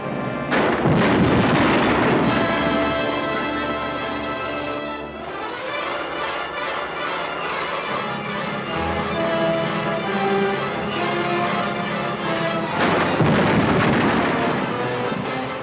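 Grenade explosions in a 1950 film: loud rumbling blasts at the start and again near the end, with dense, sustained roaring noise between them.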